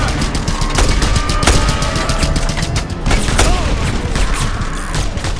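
Rapid gunfire crackles through a firefight in the video game Just Cause 2, dense bursts of automatic shots and loud cracks layered over a constant roar of action.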